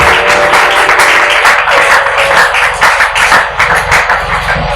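A church congregation at a prayer marathon applauding, loud dense clapping that fills the whole stretch with steady rhythmic accents, close and continuous.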